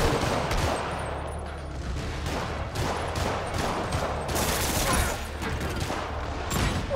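Rapid volleys of rockets fire in Marvel's Spider-Man Remastered, with dense, continuous bursts and blasts crowding together at steady loudness for several seconds.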